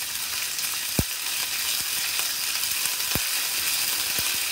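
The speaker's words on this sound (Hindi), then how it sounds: "अब इसमें हम डालेंगे जिंजर गार्लिक पेस्ट, तो थोड़ा सा भुनेंगे" Ginger garlic paste fries in hot oil with cashews as the base for dum aloo. A loud, even sizzle continues throughout, punctuated by a few crisp ticks and taps from a stirring spoon.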